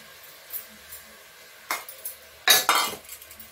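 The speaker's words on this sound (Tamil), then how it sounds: "இப்போ நான் வந்து தக்காளி போட்டு வரேன்" Tomatoes dropped into a metal pan for mint rice, with a few sharp clinks and scraping stirs from cutlery against the pan, close and fairly loud, with no talking.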